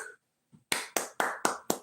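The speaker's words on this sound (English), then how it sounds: "Little round of applause again." A few hands clap five times in a sharp, evenly spaced run after a brief pause, congratulating a theater ensemble, with no voices over them.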